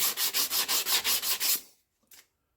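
Rust being rubbed off a BSA engine part with abrasive, in about nine quick, even back-and-forth strokes of close, gritty scraping, then a short pause and one faint final stroke.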